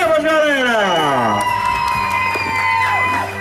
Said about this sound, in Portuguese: Uma salva de palmas, galera!